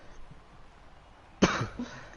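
A single sharp cough over a quiet background, followed by a short second burst.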